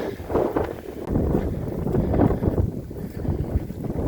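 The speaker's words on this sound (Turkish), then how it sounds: "ama çok çok rüzgarlı" Heavy wind buffets the microphone, producing rough, fluctuating low rumbling gusts throughout with no voices.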